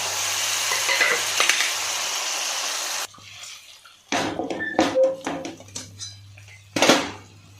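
Hard-boiled eggs pricked with holes sizzle steadily in hot oil for a tamarind egg pulusu, a loud frying hiss for about three seconds, then sharp metallic clinks and scrapes of a utensil against the pan.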